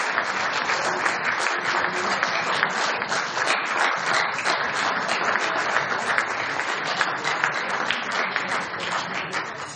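Dense, sustained applause from a dinner crowd at an annual banquet, loud and continuous without a break, many hands clapping together in an even roar.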